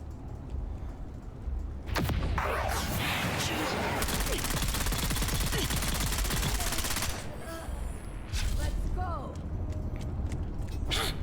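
Heavy machine gun fire in the video game Dune: Awakening, a dense sustained burst of rapid shots with heavier blasts mixed in, loud and continuous across most of the stretch, with a voice talking over parts of it.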